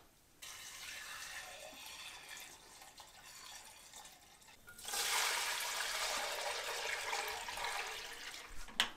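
Hot rendered lard is strained, giving a continuous liquid pouring and trickling sound that grows louder and fuller about halfway through, close and steady with no talk.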